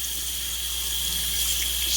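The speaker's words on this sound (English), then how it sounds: "So once we got it all gutted, gills also, you just rinse it under the fresh water." Tap water runs steadily into a sink while a gutted nabeta fish is rinsed under it, a close, continuous hiss with no voices.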